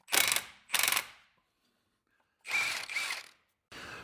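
Impact gun driving the 15 mm front drive shaft bolts on a Jeep Liberty, heard as four short, loud, close bursts: two quick ones, a pause, then two more.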